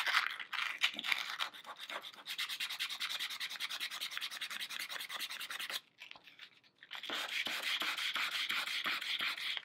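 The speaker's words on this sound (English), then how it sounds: "We're going to go back to the sandpaper now. And I'm going to start on the edges of my cards." Sandpaper rubs back and forth along the edges of art cards in quick, steady scratchy strokes, close and continuous, with a brief pause midway before the rubbing resumes.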